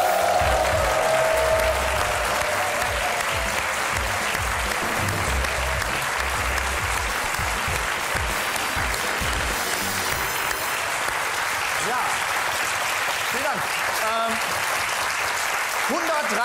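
A German cabaret audience welcoming a performer with loud, dense, continuous applause that holds steady for a long stretch, with a voice briefly audible over the crowd.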